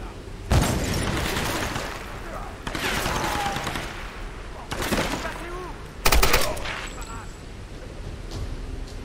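Machine gun fire in Tomb Raider, several loud bursts at intervals against a background of rumbling combat noise and intermittent voices.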